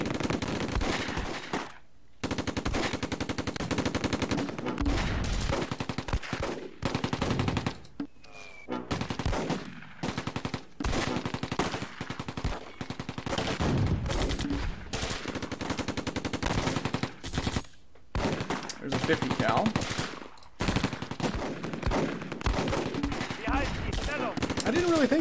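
Machine gun fire in the Close Combat WWII strategy game, German campaign, with .30-caliber guns: repeated bursts and scattered gunshots across the whole stretch, loud and dense, with people talking over parts of it.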